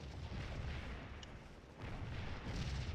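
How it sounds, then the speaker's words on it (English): Artillery fire in the Scourge of War Gettysburg battle game, a low rumbling barrage of distant booms rolling continuously and fairly faint, without talking. "Look at all that artillery."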